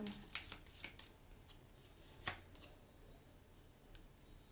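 Playing cards are shuffled by hand, quick riffling flutters and a few soft snaps, faint and close, in a quiet room with no talking.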